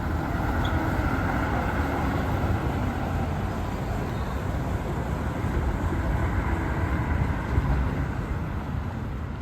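The Roosevelt Island aerial tram crossing the river, a steady loud rumble and broad whooshing drone of the moving cabin with wind, continuous and unbroken throughout.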